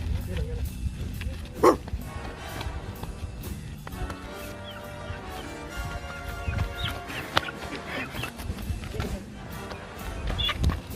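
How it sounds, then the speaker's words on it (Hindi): Dogs bark amid shouting people and a chicken: scattered sharp barks and yips at mid distance, mixed with voices and scuffling movement. "कुत्तों को संभालो।"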